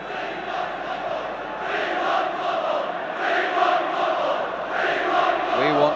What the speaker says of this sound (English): the crowd are shouting